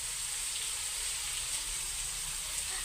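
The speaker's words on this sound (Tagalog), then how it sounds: "medyo pakulahin at ibisahin natin ng durug-durugin natin ang kamatis" Tomatoes being crushed and cooked down in a pan give off a constant, bright sizzle and bubbling hiss, steady and close, with no voices.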